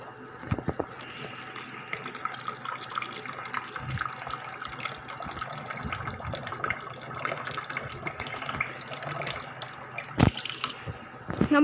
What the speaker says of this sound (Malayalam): വെള്ളം ഒഴിക്കണം ഇതിനകത്തോട്ട്